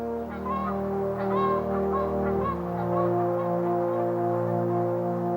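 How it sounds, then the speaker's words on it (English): Swans and other migratory birds call with honking, goose-like notes in a steady overlapping chorus above a low, continuous drone, moderately loud throughout. "swans and other migratory birds fly away to the south."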